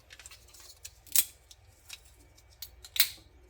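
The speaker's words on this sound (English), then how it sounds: "It's just crumbling in my hand here." Brittle old dashboard material from a Nissan Hardbody truck crumbling in a hand, close crisp crackles and snaps with a few louder breaks against quiet background.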